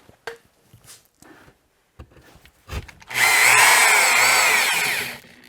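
A power drill drives a screw into drywall in one loud, steady whirring burst of about two seconds, following a few faint taps and clicks of handling.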